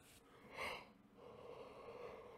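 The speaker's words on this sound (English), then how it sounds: "I'm sorry I'm yawning so much, guys." A long, tired yawn from a person playing Dragon Quest XI on PS4, a breathy drawn-out exhale that swells and then trails into soft breathing, close to the microphone.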